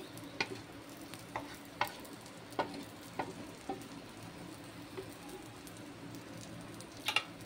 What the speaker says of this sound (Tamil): ட்ரை நான் லைட்டாக இந்த மாதிரி ரோஸ்ட் பண்ணிக்கோங்க